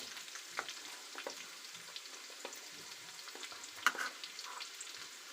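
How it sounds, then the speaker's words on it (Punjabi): Garlic frying in a pan for aloo gobhi, a quiet, steady sizzle with occasional soft clicks and scrapes of stirring, one sharper clink near the end, and no talking. "ਹੁਣ ਇਹਦੇ ਵਿੱਚ ਪਾਉਂ ਮੈਂ ਲਸਣ"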